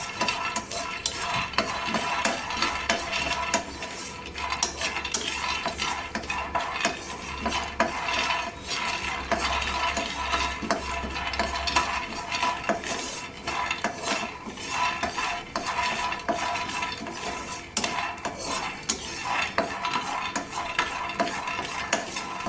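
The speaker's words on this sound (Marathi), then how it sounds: "शेंगदाणा भाजून घ्यायचं" Peanuts are dry-roasted in a pan and stirred continuously, giving a busy rattling, scraping and clinking texture with a faint sizzle, steady and close throughout, no voices.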